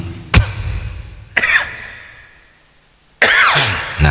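Three separate coughs from one person, loud and close, spaced apart with a short pause after the second and a longer one before the third.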